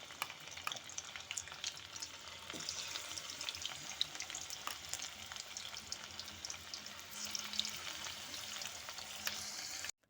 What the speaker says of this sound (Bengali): পেঁয়াজকলির বড়াগুলো ভাজা হয়ে গেছে, আমি নামিয়ে নিয়েছি।